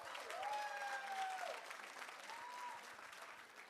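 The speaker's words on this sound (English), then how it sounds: "Please give him a big round of applause." Guests applaud at an Indian-American wedding reception, a steady wash of crowd clapping with cheers and whoops over it, moderately loud and easing off toward the end.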